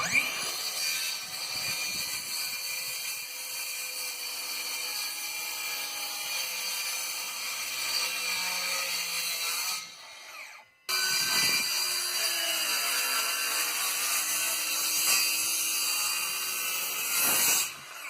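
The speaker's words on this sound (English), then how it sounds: "cutting some board studs to 8-foot lengths" A power saw cuts lumber studs to 8-foot lengths during house wall framing, a loud, steady whine running through two long cuts with a brief pause near the middle.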